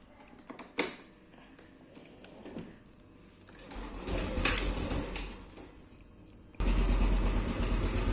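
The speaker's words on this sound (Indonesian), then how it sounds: "Saya nyalain dulu motornya." A motorcycle engine is started after a timing chain tensioner replacement, with a few clicks and a brief crank followed by a rising churn, then the engine settling into a steady, close idle.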